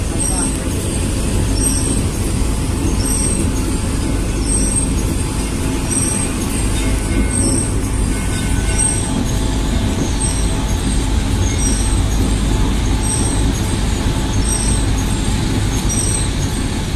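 The Sato-sato tourist train ride at Ancol rolls along with a steady loud rumble and clatter throughout, with faint whistles or tones repeating above it.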